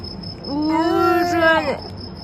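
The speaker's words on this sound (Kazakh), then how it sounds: "Мына жақта шегірткенде дауысы деген шиқылдап деген" A thin, steady grasshopper chirp rings continuously in the background outdoors, while a drawn-out vocal moan rises and fades in the middle.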